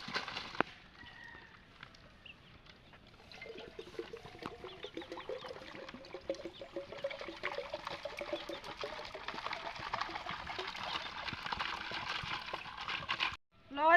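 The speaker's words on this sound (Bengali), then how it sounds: "এখানে আমি জল দিয়েছি, এখানে ঠান্ডা জলটা দিয়ে নেবো" Cold water pours into a vessel to make mango sherbet outdoors under a mango tree, a continuous close trickle whose tone rises as the container fills, ending with a brief break and clatter.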